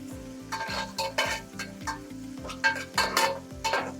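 Onions and curry leaves sauté in a pan for mutton thanni kuzhambu, a steady close sizzle broken by rhythmic scraping strokes of a spoon stirring roughly every half second, with no talk.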